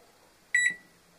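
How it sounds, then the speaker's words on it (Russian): A Samsung G2739NR microwave oven, just repaired after failing to switch on, gives two quick, high electronic beeps, close and clear, then goes quiet. "Включилась микроволновка."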